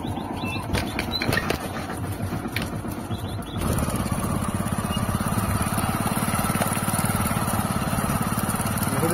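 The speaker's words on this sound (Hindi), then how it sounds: "गाइस बिना चाबी रे स्टार्ट हवा देखबे गाड़ी" A motorbike engine started without a key sputters, then catches and settles into a steady, rapid idle, close and loud, with faint birds outdoors near farm fields.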